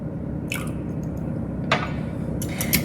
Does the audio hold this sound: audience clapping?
no